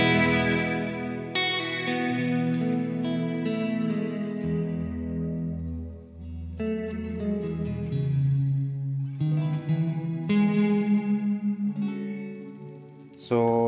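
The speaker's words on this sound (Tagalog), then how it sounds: "So, sa murang halaga, grabe yung reverb niya." An electric guitar runs through the reverb of an M-Vave Tank G pedal: a series of strummed chords and single notes, each washing out into a long, lush ambient tail with chorus-like shimmer.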